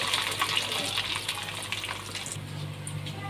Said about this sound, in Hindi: ये देखें, हमारा ऑयल गर्म हो चुका है। अभी इसके अंदर डोनट डालेंगे।